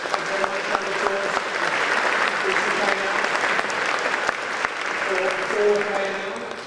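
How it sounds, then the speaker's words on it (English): Sustained applause from an audience at a demo session and prize event, steady and fairly loud, with a voice speaking over it. "Thank you very much, round of applause."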